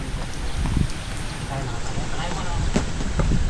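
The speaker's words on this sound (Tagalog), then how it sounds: "Ang lakas ng hangin." Strong typhoon wind roars and buffets the microphone continuously in Nueva Ecija, Philippines, a dense broadband rush with low rumbling gusts throughout.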